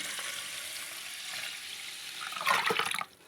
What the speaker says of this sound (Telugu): ఇప్పుడు నాలుగు గ్లాసులు నీళ్ళు వేయాలండి